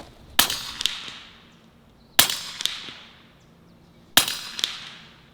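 An air gun fires pellets three times, about two seconds apart. Each shot is a sharp, snappy crack followed by a quick smaller knock and a brief ringing tail, with quiet between shots.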